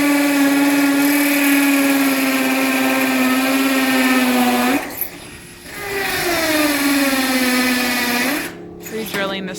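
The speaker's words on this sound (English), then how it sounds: "Just gotta drill through concrete." A power drill bores into concrete outdoors, a loud steady high whine that pauses once for under a second, dips in pitch, then resumes before stopping.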